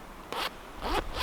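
A zipper on a deep trouser pocket of budget bushcraft clothing is pulled in three quick, close rasping strokes separated by short pauses, with no talking.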